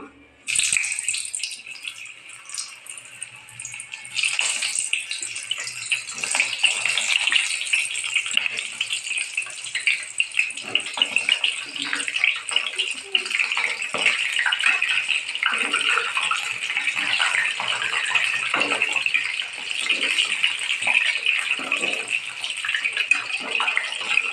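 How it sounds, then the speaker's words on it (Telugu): Eggplant pieces frying in hot oil in a kadai for a spicy garlic eggplant dish: a steady, loud, hissing sizzle that swells after the pieces go in a few seconds along and carries on with small crackles and clinks, with no talking. "ఆయిల్ వేడైందండి. ఇప్పుడు వంకాయలు వేసుకుందాం."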